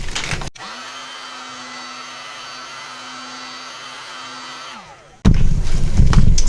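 Heat tool blowing onto poured resin in a tray, a steady airy electric whir with a low hum, starting and stopping abruptly, followed by louder rustling handling noise.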